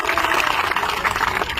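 A crowd applauds steadily to welcome Gaurav Tikait at an outdoor protest rally supporting the Mandkaula-Naurangabad cut movement, a dense, continuous clapping that holds for the whole moment.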